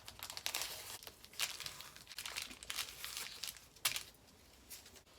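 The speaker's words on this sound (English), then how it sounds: "now just remove the painter's tape" Painter's tape peeled from a freshly sewn fabric baby gift, giving soft, close crinkling and tearing rips in several uneven pulls, quiet and without talk.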